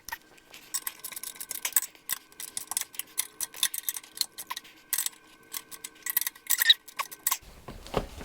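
A wrench ratchets in quick, uneven bursts of clicks while bolts on a Harman P68 pellet stove burnpot are tightened. The clicking is close and dry and runs almost the whole time, with no talk.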